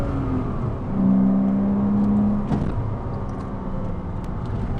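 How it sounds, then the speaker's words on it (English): A 2007 Porsche Cayman 2.7 engine revs up in a sustained high-rpm pull heard from inside the car, a steady droning tone that holds, then drops off as the revs fall, with road noise beneath. "So you do need to rev this car."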